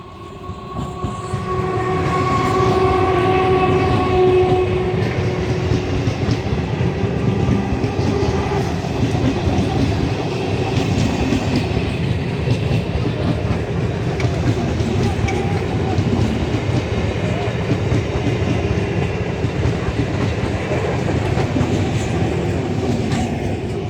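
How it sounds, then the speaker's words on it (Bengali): A train rushes past on a village railway line, loud and close, with a horn call near the start and a steady rumbling roar and clatter of wagons that fills the rest of the stretch. "তো তোমাদের ট্রেন দেখিয়ে দিলাম, আমাদের এখানে ট্রেন কেমনভাবে যায় দেখতে পাচ্ছ"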